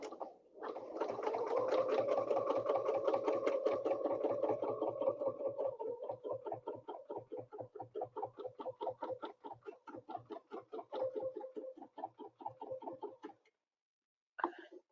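A sewing machine stitches in the ditch while quilting, a close, rapid rattling run that slows into distinct stuttering bursts before stopping near the end.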